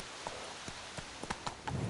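Hooves of Roach, the horse in The Witcher 3, galloping at a steady rhythm, with several distinct thuds against a constant background of wind and ambient noise.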